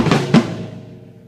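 A drum kit hit from a drum solo pattern, a middle tom struck together with the bass drum: two close booming strikes in quick succession, ringing out and fading, with no talk.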